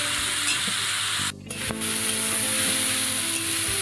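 Water lily stems sizzle in a pan as they are stirred, a close, continuous frying hiss with a brief dip and soft scraping of the stirring utensil.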